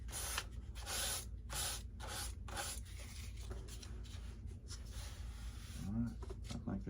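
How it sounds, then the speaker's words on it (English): Sandpaper rubs in short repeated strokes over the surface of a 70mm FMS F-18 Blue Angel model jet, close and scratchy, with brief pauses between passes. "Alright, I think that's some sanding."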